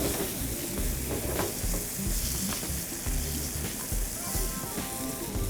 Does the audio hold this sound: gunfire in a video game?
no